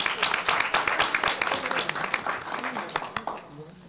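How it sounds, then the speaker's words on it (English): An audience at a budget retreat claps, with brisk scattered clapping that fades over a few seconds and voices mixed in. "let's give them one more round of applause"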